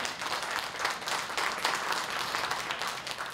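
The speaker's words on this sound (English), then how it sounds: "Let's give them all a warm round of applause." An audience claps for the panelists at a library panel discussion in Flushing, Queens, with a moderate, continuous round of applause at a modest level.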